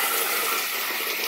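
A hotel room shower at the Sheraton Miyako Hotel Osaka runs at strong pressure, a steady bright hiss of spraying water held evenly throughout the short stretch, with no talk over it.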